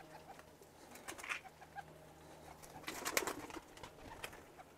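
Hünkari pigeons coo softly nearby in short bursts, low murmurs rising briefly into louder fluttery calls, against a quiet background hum.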